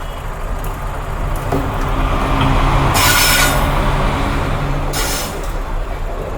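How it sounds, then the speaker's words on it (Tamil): Nearby at a level crossing, a train passes with a loud rolling rumble, broken twice by sharp bursts of wheel squeal or air-brake hiss, and no one speaks. "7ஆவது ட்ரெயின் வருது."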